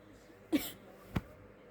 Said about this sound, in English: Please excuse that, I'm still coughing.